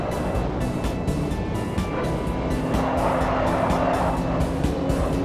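A Tesla Roadster races in the Forza video game, a continuous loud car sound with tire squeal and skidding and a steady engine whine throughout, with no talk.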